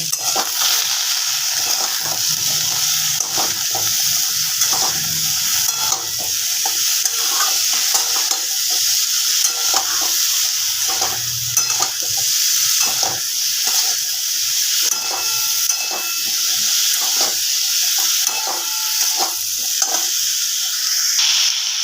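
Winter vegetable curry with a little sugar sizzles and hisses in a pan while a spoon stirs it steadily and close by, a continuous frying crackle broken by frequent scraping strokes, with no voices.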